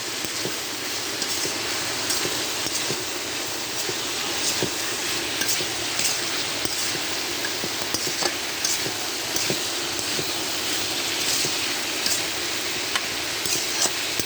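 Fried prawns and bitter gourd being tossed in a frying pan with spices, a loud continuous sizzle with faint scraping of stirring throughout, no voices.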